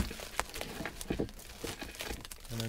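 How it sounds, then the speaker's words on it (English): Thin plastic wrap crinkles and crackles in irregular bursts as it is pulled tight around a potted plant being packed at an online nursery, close and moderately loud, with a steadier hum near the end. "pull it tight when you're moving the plastic along"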